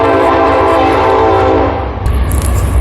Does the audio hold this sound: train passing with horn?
yes